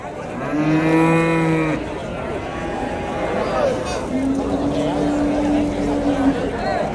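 Cattle at the Vaniyambadi cattle market in Tirupattur district give two long, loud, close moos, one near the start and another midway, over a steady murmur of market crowd noise.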